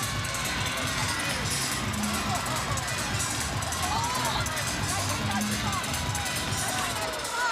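A gymnastics arena crowd at a college meet cheers and buzzes during a dance break on beam, a steady wash of clapping, shouting and babble held at an even level throughout.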